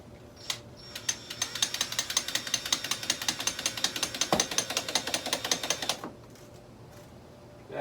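Pins or nails being tapped into part of an N scale clay train model, heard as a fast, regular run of light close taps lasting about five seconds and then stopping abruptly.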